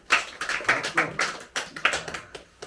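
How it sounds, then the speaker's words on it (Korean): A church congregation claps in a string of sharp, uneven hand claps, fairly close and loud, with a couple of brief pauses between bursts. "박수."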